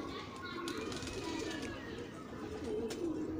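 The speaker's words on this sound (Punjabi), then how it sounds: "ਐ ਨੇ ਕਬੂਤਰ" Pigeons coo steadily in a loft or rooftop setting, a soft continuous murmur of several birds close by, with background voices and distant children faintly mixed in.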